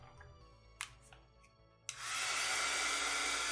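A hair dryer blows steadily on a watercolor painting, switching on after a few soft taps and rustles and running loud and continuous for the rest of the clip.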